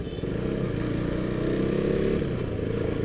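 A KTM RC 390 motorcycle riding through city traffic, its engine giving a steady, loud drone close by with little change in pitch, and no voices.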